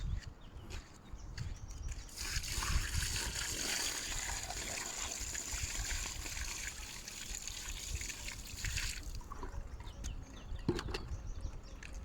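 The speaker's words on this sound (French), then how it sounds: "On va venir verser à un autre point." Water is poured into a roof gutter and washes through it in a steady, fairly close rush for several seconds, then eases off into lighter trickling and dripping.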